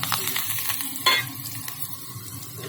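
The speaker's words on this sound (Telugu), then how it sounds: "ఇప్పుడు ఈ ఆయిల్లోకి 2 లవంగం, చెక్క, కొద్దిగా కరివేపాకు, బిర్యానీ ఆకు వేసేసి" Cloves, cinnamon, curry leaves and a bay leaf sizzle in hot ghee, a steady close crackle with one sharp burst of spattering partway through.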